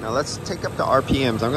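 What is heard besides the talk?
No everyday noise stands out behind the speech.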